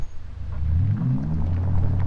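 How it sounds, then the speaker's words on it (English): Xiaomi SU7 Ultra in its electronic sound mode, a synthetic blend of V8 and sci-fi tones, hums low and rising as the car creeps forward and back, fairly quiet and steady with no voices. "It's like a mixture of like a V8 and something a little bit more sci-fi."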